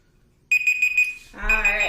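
A workout timer alarm sounds during a plank exercise at the end of a home core session, a loud electronic beeping tone that cuts in abruptly after silence and keeps going with a bit of other noise mixed in.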